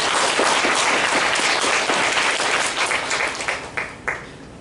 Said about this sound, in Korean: 축하의 박수를 우리 참부모님께 보내주시면 감사하겠습니다